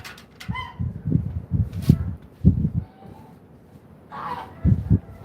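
Big farm-raised geese give short, loud honks in bursts at close range, with pauses of quiet between calls.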